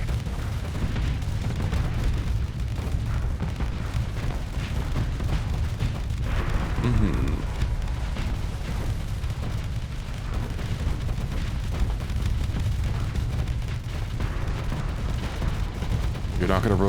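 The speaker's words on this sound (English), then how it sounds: "Missiles make short work of it." Missiles firing and exploding in the space combat game Starsector, a dense continuous rumble of booms and blasts layered over game sound, loud and sustained, with someone talking over it.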